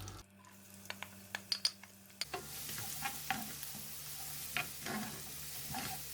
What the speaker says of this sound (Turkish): Soğanlarımızı 1-2 dakika kavurduk.